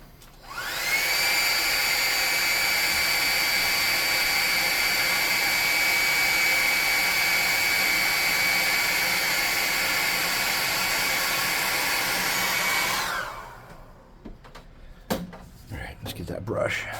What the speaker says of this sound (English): I'm going to hit this with a hair dryer and come back with the pink.